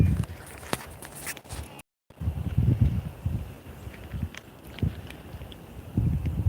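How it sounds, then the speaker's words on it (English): Gusting wind buffets the microphone outdoors in low rumbling bursts that rise and fall irregularly, with a few brief knocks and a short dropout. "the wind has been blowing all day. Like gusting."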